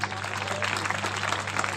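Audience applause at Bundi Utsav 2023 during a live comedy show: a dense, steady wash of clapping from a crowd that holds evenly for the whole moment over a low electrical hum.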